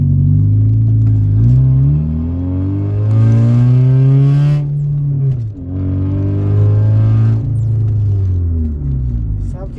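A Brazilian car in the video game Car Parking Multiplayer drives with a steady engine drone, rising in two long revving sweeps that drop away between shifts and stay loud and close throughout.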